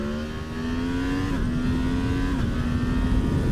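A motorcycle engine holds a steady loud drone near the listener, its pitch creeping up slightly and dipping in small steps as the revs shift, continuous throughout.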